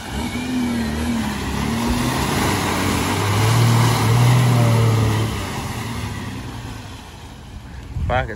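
A four-wheel drive car drives through sloppy mud, its mid-pitched engine revving and swelling in the middle before easing off, heard fairly close with steady outdoor noise throughout.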